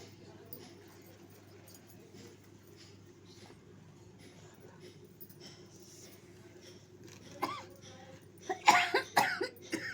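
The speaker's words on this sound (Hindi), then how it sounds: "देखती हो इतना खांसी आवत है।" A few harsh coughs burst out near the end after a stretch of quiet room tone with faint background murmur.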